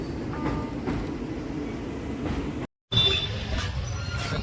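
Steady rumble and rattle of a passenger train running on rails, continuous and close, with a brief dropout midway before the clatter resumes.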